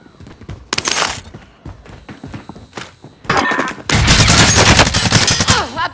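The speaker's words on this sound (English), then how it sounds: "Receiving hostile fire." Video game gunfire in a prison-island battle setting, with sharp bursts and sustained automatic volleys that grow louder and denser toward the end, mixed with thuds and impacts.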